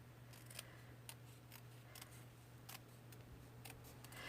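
Scissors snip pieces of purple card from a paper craft kit: a series of faint, crisp, separate cuts spaced irregularly over a quiet room hum.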